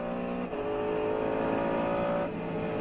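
Mercedes CLR-LM race car on a hot lap at Le Mans, its engine a loud, steady high-revving drone heard from on board, with a brief dip early on and a shift in pitch near the end, no voices.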